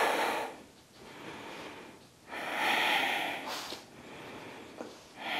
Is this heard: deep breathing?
yes